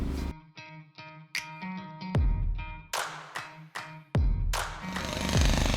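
Large construction block buried in the ground being broken up, with a series of sharp, loud impacts and bursts of hammering in irregular clusters, close by, without voices.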